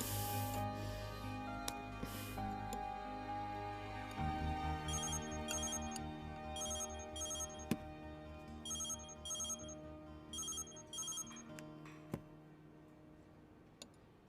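A telephone rings in bright repeated bursts over a steady musical backdrop with a ticking pulse, fairly quiet and sustained throughout.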